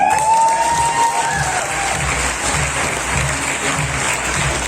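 Loud, dense applause from a crowd at a celebration event, continuous throughout with some cheering and a voice briefly audible at the start.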